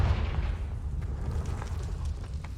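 A Confringo fire spell explodes in Hogwarts Legacy, giving a loud, sustained rumbling blast with a heavy low-end roar, scattered crackles and pops fading slightly over nearly three seconds.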